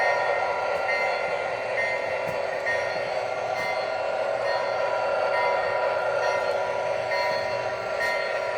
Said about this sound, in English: So we're going to reverse this train and park it back where it was originally.